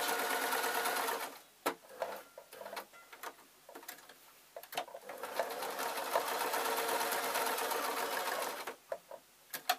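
A sewing machine stitches a dress in long steady runs, its fast rattling whir pausing briefly with several short bursts in between, close and loud with no talk.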